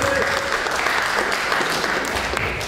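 A room full of people applauds steadily and loudly for a man being honored at a community gathering, the dense clapping continuous throughout with a voice faintly underneath.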